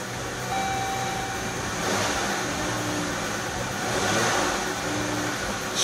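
A Dodge/Jeep/Chrysler car engine with a faulty throttle pedal position sensor runs steadily with a rough, uneven drone that swells and dips a couple of times, close and fairly loud, with no speech.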